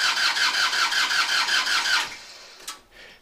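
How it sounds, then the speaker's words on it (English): A cold tractor engine cranks in a rapid rhythmic churn for about two seconds, then cuts off, followed by a brief clank and quiet. "we're starting the tractor"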